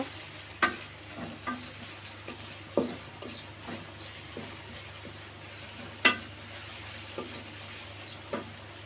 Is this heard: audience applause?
no